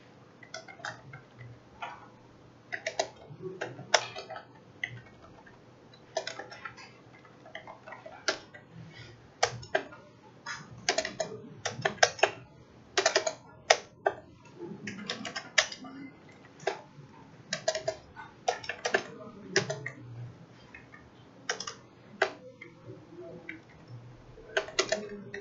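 Keys on a computer keyboard clack in irregular bursts of quick, light taps with short pauses between runs, close and fairly quiet against a faint room hum.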